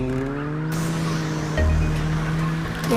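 An engine drones steadily in a racing video game while tires squeal through a drift, the tone shifting midway, continuous and fairly loud with no speech.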